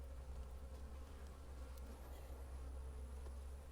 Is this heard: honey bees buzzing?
yes